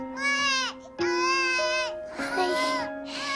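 A newborn girl cries loudly and close in a home birth scene, with repeated wailing bursts and short breaths between them, alone without talk.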